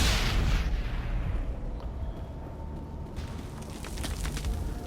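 A loud explosion in the Mass Effect video game on the planet Feros opens with a heavy booming blast that rumbles and decays, followed by scattered crackling and gunfire-like bursts.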